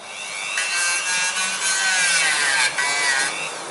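A Toyota Corolla brake part being sanded during a repair for screaming brakes: loud, close, continuous abrasive scraping in steady back-and-forth strokes, with no voices.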